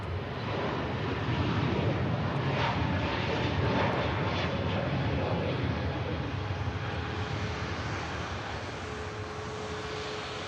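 An Airbus Neo airliner passes at Manchester Airport, its jet engines producing a broad, sustained roar that swells and then eases slightly, with some wind noise on the microphone.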